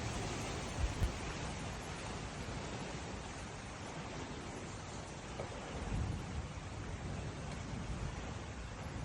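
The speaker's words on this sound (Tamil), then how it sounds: "நேற்றைய தினம் மே மாதம் 7ஆம் தேதி 2024 கத்தார் நாட்டில் மீண்டும் ஆரம்பமாகிய மழை" Steady heavy rain in Qatar, a dense continuous wash of noise without pauses, loud and close throughout.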